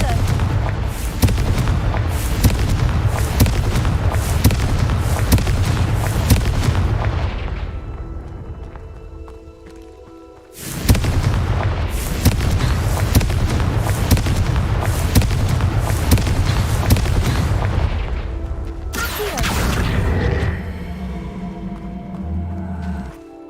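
Confringo fire spells in Hogwarts Legacy go off as sustained booming, crackling explosions, one long loud blast, a short lull, then another long roaring burst that breaks off into a rumbling tail.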